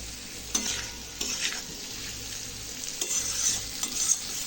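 Soybean and potato curry masala stir-fries in oil in a pan, a steady close sizzle broken by repeated scrapes and stirs of a spoon against the pan.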